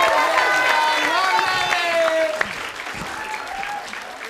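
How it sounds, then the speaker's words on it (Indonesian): A crowd breaks into loud, sustained applause with scattered cheers, the clapping thinning slightly toward the end. "kita kasih tepuk tangan untuk Mike Kiri."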